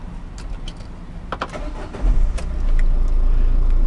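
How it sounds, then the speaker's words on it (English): A van engine, registration BP57 KMK, cranks after a few faint clicks and catches, then settles into a steady, smooth idle at about 800 RPM, heard up close and alone. "Starts without any issues whatsoever, sitting at a steady 800 RPM with no lumpiness at all."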